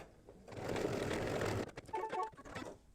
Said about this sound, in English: stitch color stop number 11, which is going to tack down the brown